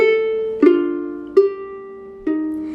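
Measure 24 of a song on solo ukulele: four clear plucked notes with ringing tones, each left to sustain and fade before the next, played alone with no talking.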